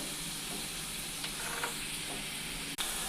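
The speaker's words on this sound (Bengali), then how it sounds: "আমি এটা ভালো করে ভেজে নেব, মশলাটা যাতে এতে ভালো মতো লেগে যায়।" Spiced vegetables for shukto frying steadily in a pan, a continuous close sizzle with faint stirring scrapes and one sharp knock near the end, with no talking.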